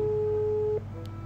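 A single steady telephone call tone sounds for under a second and then stops as the call goes unanswered, leaving a quiet room hum behind it.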